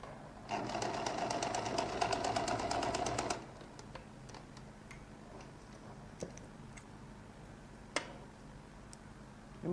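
A sewing machine stitches a lady's jacket in one fast rhythmic run of about three seconds, followed by quiet handling noises and a sharp click.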